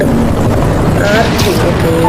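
A helicopter in the video game Spider-Man Remastered: a steady, loud rotor and engine drone with a whirring mechanical undertone, mixed with game sounds throughout.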